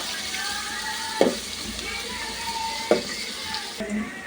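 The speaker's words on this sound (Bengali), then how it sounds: "এখানে তেল দিয়ে দিছি, কাঁচামরিচ আর পেঁয়াজ কুচি দিয়ে দিব। তো এই দুটাকে ভালোভাবে ভেজে নেব।" Green chilies and chopped onion fry in oil for egg noodles, giving a steady close sizzle with two sharp spatula knocks against the pan, with no voices.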